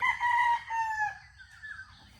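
A rooster crows once, loud and close, its long strained call trailing off over a faint low rumble.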